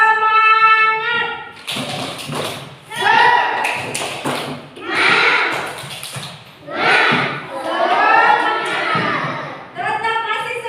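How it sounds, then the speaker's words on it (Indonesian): A group of schoolchildren in a classroom lesson on Pancasila values performs a rhythmic spirit clap, bursts of patterned clapping alternating with loud chanting voices, close and energetic, with an adult voice leading. "Yuk, tepuk semangat."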